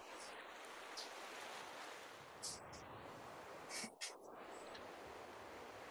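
Ocean waves washing steadily at nightfall, a constant broad surf hiss with a few brief faint clicks and rustles over it, no talking.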